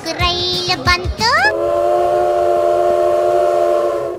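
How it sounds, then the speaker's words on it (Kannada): A Sri Lankan train pulls into a railway station, giving a few short whistle blasts, then a long, loud, steady horn tone held to the end with no talking. "ಶ್ರೀಲಂಕಾದ ರೈಲು ಬಂದೇ ಬಿಡ್ತು."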